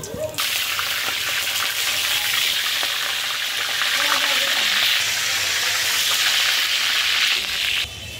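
Onions frying in hot oil for pulao, a loud, steady, dense sizzle that runs unbroken for several seconds before easing slightly at the end.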